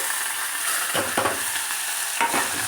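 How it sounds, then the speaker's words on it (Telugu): Two medium onions fry in hot oil with tempering seeds for gongura chutney, a steady soft sizzle with a few brief stirring strokes scraping the pan. "రెండు మీడియం సైజు ఉల్లిపాయలండి ఇవి కూడా వేసుకొని వేయించుకోవాలి"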